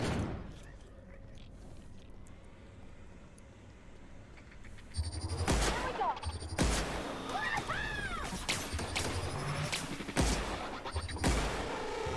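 Energy weapons fire in the video game The Outer Worlds, sharp bursts and zapping shots arriving in uneven clusters over a quieter stretch of game ambience, loud and close.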